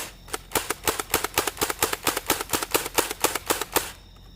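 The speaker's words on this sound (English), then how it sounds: "slam fire demonstration with X-Shot Pro darts" An Adventure Force Nexus Pro Nerf blaster slam fires X-Shot Pro darts in a fast run of about sixteen sharp, evenly spaced snapping shots, close and loud, with no talk.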